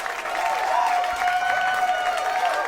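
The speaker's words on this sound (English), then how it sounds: "Just give it up for Blake Burkhart. And then, like, a minute of clapping." Applause at the start of a comedy album introduction, a dense, steady wash of clapping from an audience that holds at an even level for the whole short stretch.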